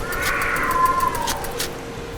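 A cartoon cat meows in a long, drawn-out wail, clear and close over light background music, in a children's animated Halloween cartoon about trucks.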